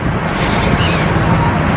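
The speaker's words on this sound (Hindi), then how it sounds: "और देखो कितनी तेज़ ठंडी हवा चल रही है" Strong cold wind blowing outdoors near a building under construction, a steady loud roar buffeting the microphone with no breaks.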